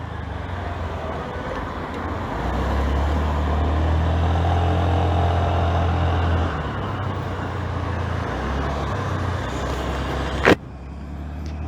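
A 2023 Honda Activa 125 scooter rides along a road with a steady engine hum and rushing wind noise that swells slightly, then a sharp click near the end.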